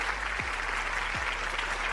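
Steady, dense applause fills the whole stretch at an even level, a continuous wash of many hands clapping with no voices rising above it.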